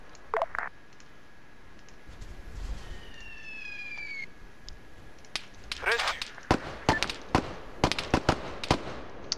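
Mortar rounds land in the Operation Black Jacket video game, a run of sharp, irregular explosions that starts sparse and grows denser, with a faint siren-like tone in the background.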